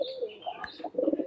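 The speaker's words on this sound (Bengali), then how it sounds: "রানিং কবুতর, টেডি গোল্ডেনের ক্রস। এই যে নট ডাকছে" A Teddy Golden cross running pigeon coos close by in a few soft, throaty phrases, with faint chirps and a brief flutter between them.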